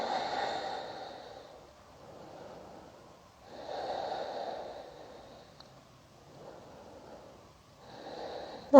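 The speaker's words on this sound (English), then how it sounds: "And breathe here." Slow, deep breaths through the nose during a yoga hip-opening stretch, a few long airy inhales and exhales, soft and close, with a sharp noise at the very end.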